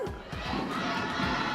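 Crowd at an MPL Philippines Season 15 esports match cheers and shouts for winning team Twisted Minds, a dense, loud, sustained roar with high-pitched yells throughout.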